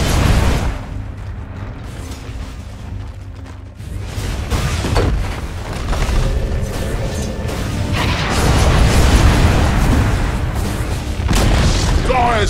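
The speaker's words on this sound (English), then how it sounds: "Top tower has fallen." A tower collapsing in the video game Dota 2 produces deep, heavy booms and rumbling crashes that build in loudness over several seconds and stay dense and sustained, like artillery or explosions in a busy battle.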